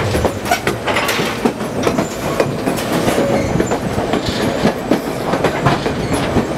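White Pass & Yukon Route railway train rolling along the summit section of track, loud close rumble with rhythmic clickety-clack of wheels over rail joints and occasional squealing, continuous throughout.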